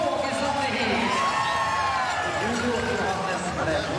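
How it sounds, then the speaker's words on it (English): Crowd cheering during rider introductions at the Drammen sprint race, a steady wash of roaring voices and whoops held throughout, with a commentator talking over it. "a big cheer for the introductions"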